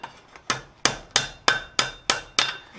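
Steady hammer blows on hot steel over an anvil while forging a flower-shaped coat hook, eight sharp ringing strikes in an even rhythm, close and loud with no talking.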